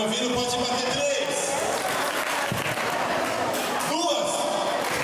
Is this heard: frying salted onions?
no